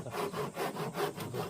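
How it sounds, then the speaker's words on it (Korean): A hand saw cuts wood while building a Moxon vise, with six rhythmic rasping strokes back and forth, evenly paced and close by, each stroke swelling and fading, no speech. "막판에는 톱으로 마무리를 해주는 게 좋습니다"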